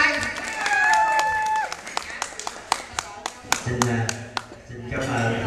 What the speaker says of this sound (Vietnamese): Quách Trung Bình, chùa Kiến An Cung, mời quý vị vỗ tay